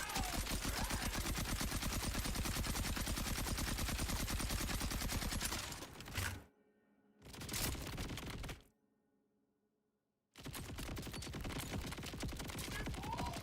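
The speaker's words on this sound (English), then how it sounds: "So just simply shooting this gun" Rapid automatic gunfire from a looter-shooter video game rattles loud and continuous for several seconds, then comes in short bursts split by silent gaps.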